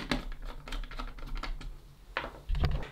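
Small screw being driven into the battery cover of a Salter kitchen scale, a string of light, close clicks and ticks in uneven rhythm with a firmer clatter near the end; no talking.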